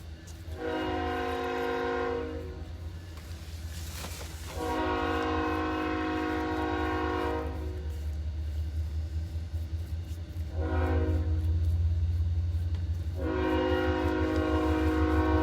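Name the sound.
train passing near a train station, horn sounding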